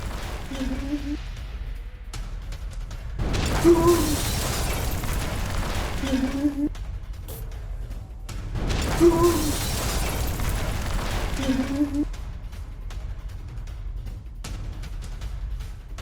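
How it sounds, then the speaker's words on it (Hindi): Two loud broadband blasts from a car explosion, each followed by rumbling noise and faint talk, stand out against quieter background murmur. "धमाके का लाइव वीडियो सामने आया है"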